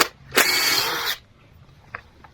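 A power drill backing screws out of exposed aggregate steps, one short high whirring burst of under a second, followed by faint clicks and taps in a quiet setting.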